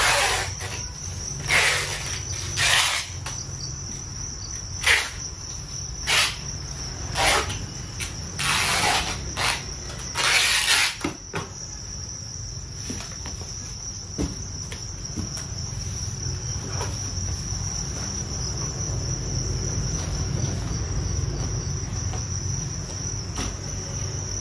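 Crickets chirp steadily at a Vietnamese cricket farm, a dense continuous trill with louder bursts of rustling and clicking during the first eleven seconds, no voices.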